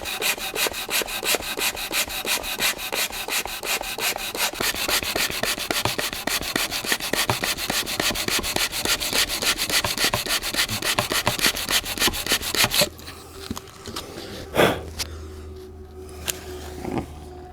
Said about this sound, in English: Or sand it down a little bit. It's too tall.